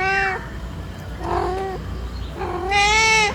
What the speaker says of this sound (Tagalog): Siguro pusa to sa anong kapitbahay.